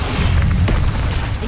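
In the video game Hogwarts Legacy, the Incendio fire spell is cast with a loud, booming rumble of flame that fills the short moment, deep and explosive without a sharp crack.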